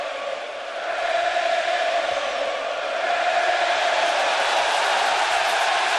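Baseball crowd at a 2013 National League Wild Card game chanting at pitcher Cueto, heard as a sustained, distant, echoing roar of massed voices that swells and holds steady.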